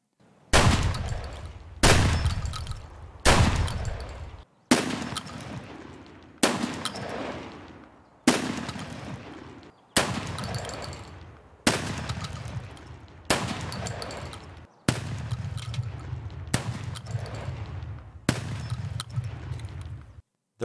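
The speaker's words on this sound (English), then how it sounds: "We'll be testing gunshots by our own PMC outside." Gunshots fired outdoors by the player's own PMC in Escape from Tarkov, about a dozen loud separate reports spaced roughly every one to two seconds, each with a sharp crack and a decaying echo tail.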